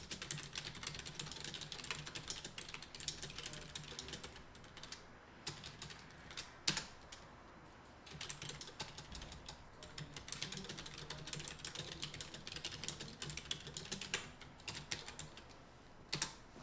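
Steady computer keyboard typing with quick, irregular clicks running throughout, fairly close and at a moderate level, with occasional sharper keystrokes and no voices.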